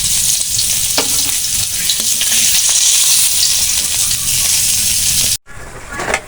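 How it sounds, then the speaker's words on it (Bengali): Pieces of pangas fish fry in a pan with a loud, steady sizzle and crackle, briefly cut off near the end before resuming. "মাছগুলো ভেজে নিচ্ছি"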